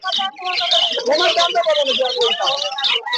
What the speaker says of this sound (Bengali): এখানে ককাটেল আছে লুটিনো ককাটেল আছে